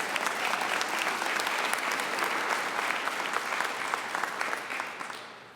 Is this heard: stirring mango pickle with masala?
no